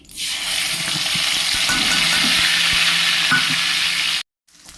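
Ground onion, ginger, garlic and chilli paste with cumin, bay leaf and dried chillies sizzle loudly and continuously in mustard oil, stirred close by, before cutting off abruptly near the end.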